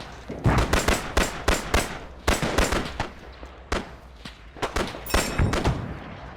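Heavy gunfire during an Arma 3 Pacific beach landing at Alligator Creek, loud clustered bursts and sharp cracks firing in rapid overlapping volleys, close and intense.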